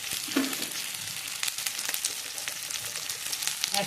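Chopped tomatoes and a spoonful of turmeric fry in a pan with a steady, close sizzle, crisp crackles popping through the hiss.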